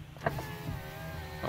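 A Toyota Corolla power window motor whirs steadily for well over a second, a near, continuous electric drone with a small click at the start and no talking over it.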